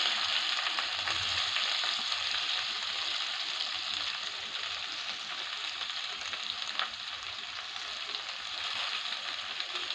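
Onions sizzle and fry steadily in a hot pan alongside garlic, a dense continuous crackle that stays close and even throughout, with a faint stirring clink partway through.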